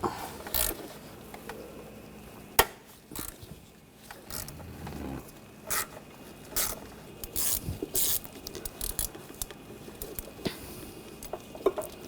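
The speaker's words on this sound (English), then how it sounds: "Use a 10mm socket and take this bolt out" A 10mm socket ratchet loosens an intake manifold bolt on a 2004-2012 Chevrolet Colorado 3.7L engine, giving scattered clicks, taps and short metallic rattles at close range, with sharp knocks between quieter stretches.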